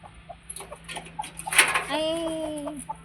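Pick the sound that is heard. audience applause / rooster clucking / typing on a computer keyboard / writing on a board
rooster clucking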